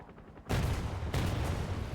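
Heavy gunfire in a tank battle video game, a loud sustained burst kicking in abruptly after a quiet moment, with a second surge of shots about a second later and no talking.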